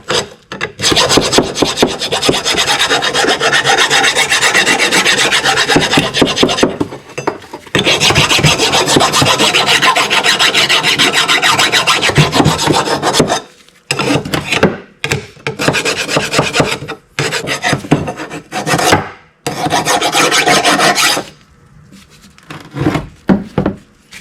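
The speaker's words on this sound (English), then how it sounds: "Take a file to it now that I've got some of the rust off, and try and clean it up some more, smooth it off" A hand file scrapes over rusty metal to smooth it, producing loud close rasping strokes in long continuous runs, then shorter separate bursts with brief pauses between them.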